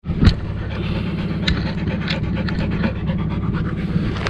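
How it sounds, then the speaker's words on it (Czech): A dog pants rapidly and steadily up close, with a few sharp breaths standing out, over a low background rumble. "Ty jsi pes."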